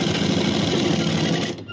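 Steady, fast mechanical whirring of a sewing machine stitching a curved seam on a suit, close and continuous for nearly two seconds before stopping abruptly.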